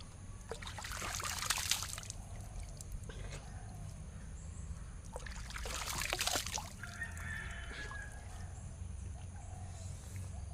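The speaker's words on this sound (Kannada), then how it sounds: "ತುಂಬ ಜಾಸ್ತಿ ನೀರು ಹರಿತಾ ಇದೆ ಇವಾಗ" A stream running high after a week of heavy rain gives a steady, fairly faint rush, swelling twice into louder splashing surges.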